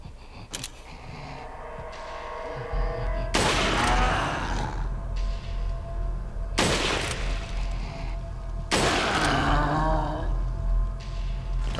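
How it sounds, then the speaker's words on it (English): A scoped rifle fires three loud, booming shots in Resident Evil 4, spaced a few seconds apart, each with a sharp crack and a rolling tail over low game ambience. "Get the rifle with the scope ready."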